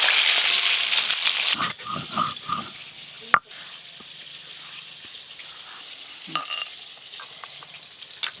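Rohu fish pieces frying in a pan and being turned over. A loud sizzle at first gives way to light clinks and a sharp knock, then quieter frying, with no speech.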